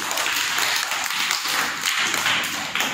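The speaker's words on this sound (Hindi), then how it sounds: "चलिए तलहा के लिए ताली बजाइए।" Children in a classroom clap together for a classmate, a dense burst of quick overlapping claps, close and fairly loud, keeping up steadily for the whole stretch.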